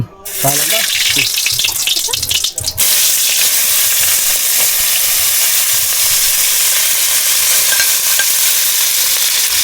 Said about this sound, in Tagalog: Gisa muna tayo ng mga ricado o condiments niga